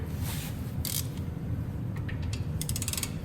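An 18 mm socket on a half-inch ratchet cranks bolts loose on the rear brakes of a 2017 Jeep Wrangler in a shop, with quick clicking pawl bursts over a low steady background hum and no talk.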